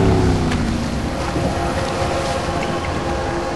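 In Max Payne 3, a boat glides in after its engine is cut, leaving a steady rushing wash of water and wind that slowly eases over a few seconds.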